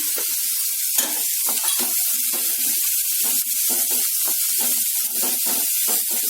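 Dried red chillies and onions fry in a pan with a steady close sizzle, broken by frequent scraping stirs of a spatula.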